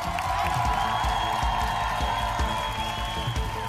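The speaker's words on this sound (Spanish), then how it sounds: "al aplauso para Muñeca, por favor." A television studio audience applauds and cheers on a Spanish-language singing competition show, with steady clapping under loud stage music throughout.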